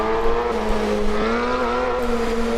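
Tuned Honda Civic engine in the Assetto Corsa racing game, roaring at a steady high pitch as it runs, loud and close with a sustained droning tone and slight tire noise, no talk.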